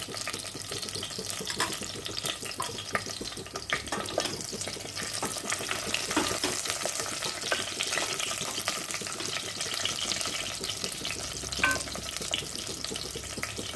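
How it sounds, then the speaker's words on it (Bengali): Chopped onion frying in ghee for a Mangalorean mutton ghee roast, a continuous crackling sizzle with occasional stirring clatter, steady and fairly close throughout. "এর সঙ্গেই পেঁয়াজটাকে আমি চপ করা পেঁয়াজটাকে ভেজে নেব"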